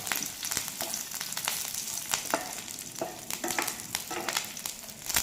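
Curry leaves and dried red chillies roasting slowly in a pan on low heat for groundnut podi, giving a steady crackling sizzle with scattered sharp pops and stirring scrapes throughout, close and fairly loud, no talking.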